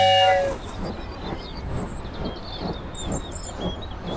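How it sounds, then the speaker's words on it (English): A train rumbles past with rhythmic clattering after a brief horn-like tone at the start, moderately loud and steady. "Choo-choo train is coming to the station."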